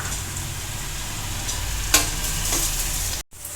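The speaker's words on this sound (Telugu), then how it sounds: "నూనె వేసుకొని ఇవన్నీ మసాలా వేసుకున్న తర్వాత లైట్ ఫ్లేమ్లో ఇవి మంచిగా దోరగా వేయించుకోవాలి" Spices and curry leaves fry in oil over a low flame for chicken curry, giving a steady close sizzle with a few soft clicks of a stirring spoon and no talk.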